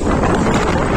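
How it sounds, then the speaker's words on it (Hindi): Strong mountain wind buffets a Pulsar 150 motorbike on the ride to Muktinath in Mustang, Nepal, a loud continuous roar of wind noise against the microphone. "यहाँ पे हवा बहुत ज़्यादा तेज है"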